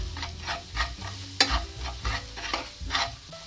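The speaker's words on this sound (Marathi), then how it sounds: "1 चमचा हळद पावडर, घरगुती मसाला 1 चमचा। मिक्स करूया।" Turmeric powder and homemade masala stirred in a hot pan for potato pea rolls, a close sizzle with rhythmic scraping strokes of a spoon repeating about twice a second, no voices.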